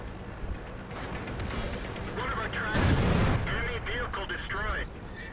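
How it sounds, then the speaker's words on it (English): Tank cannon fire in World of Tanks, a Churchill and KV-1 in play, booms out around the three-second mark, a loud blast amid continuous game noise with someone talking over it. "Someone shot at me that went right over."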